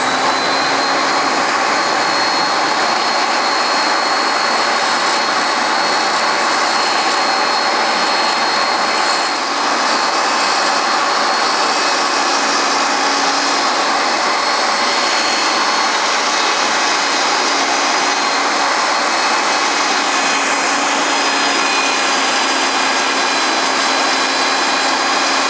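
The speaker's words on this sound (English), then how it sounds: "Now I mark it so I can rough it out at the bandsaw." A bandsaw roughs out a folding knife part for a slipjoint folder, a steady loud whining roar with a constant high tone running unbroken throughout, no voices.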